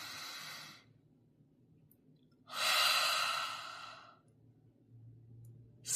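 Slow, deep breaths drawn in during a guided healing and breathing session: a long airy inhale, a pause, then a louder, fuller breath lasting over a second, heard alone and close with no talking.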